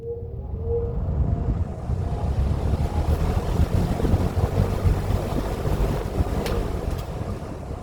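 An early 1960s Electrohome Lakewood P-20 electric fan runs on its high setting, giving a steady, close, broadband rush of moving air with a faint motor hum underneath.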